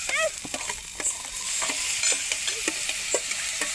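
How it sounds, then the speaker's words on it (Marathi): Garlic, onion, tomato and chillies frying in a pan, a steady sizzle with rhythmic stirring scrapes and taps of a spoon against the pan, close and clear, no talking. "कांदा टमाटर मिरच्या ते सगळं दहा मिनिटं चांगलं फुरतून द्यायचं"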